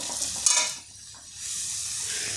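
Vegetables fry in a pan with a steady, close sizzle, and a single metallic clink of a utensil marks a stir partway through; there is no speech.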